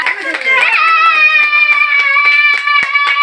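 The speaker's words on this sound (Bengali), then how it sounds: "এই আমাদের ছেলে মেয়ে সবাই হাততালি দিচ্ছে আমাদের যেহেতু বিবাহবার্ষিকীর জন্য" Children clap in quick, lively bursts at a wedding anniversary cake-cutting, with voices and a bright tune carrying over the claps.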